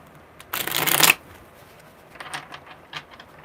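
Tarot cards are riffled in one quick, crisp shuffle lasting about half a second, followed by softer ticking as they are tapped and squared.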